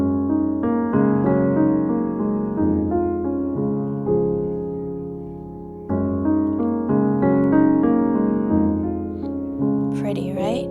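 A beginner piano warmup played fast and flowy, with rippling chords and sustained notes in two flowing phrases separated by a brief pause, close and clean with no talking.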